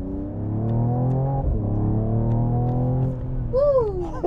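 A 2021 Mercedes-AMG E53 sports sedan under way, its engine droning steadily with one short exhaust pop partway through, then a whistling tone rising and falling near the end.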